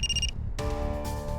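A telephone rings briefly with a bright electronic trill that cuts off after a fraction of a second. Steady tonal background music follows, and no one speaks.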